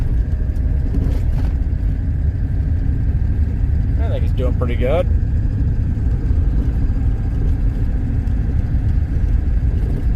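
A 7.3 diesel engine truck drives on the road, its steady, loud low rumble running through the whole clip, with people talking over it from inside the cab.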